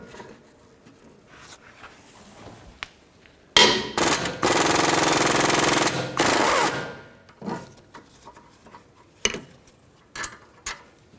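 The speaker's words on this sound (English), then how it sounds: "Take these two caliper bracket bolts out. Use a 19mm socket." Rear caliper bracket bolts are loosened with a 19mm socket on a 2004-2008 Nissan Maxima: scattered metallic clanks, then a loud sustained mechanical rattling burst of a few seconds, followed by lighter tool knocks.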